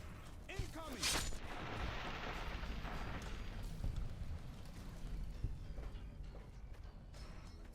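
Enemy gunfire in Fallout: A Tale of Two Wastelands crackles through a dense, rumbling mix of shots and bursts. One sharp blast stands out early, and a voice talks over the fighting.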